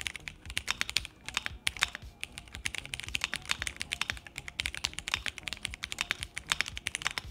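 Rapid typing on a Keychron Q1 Pro mechanical keyboard, a dense stream of crisp clacky keystrokes close to the listener, steady and uninterrupted.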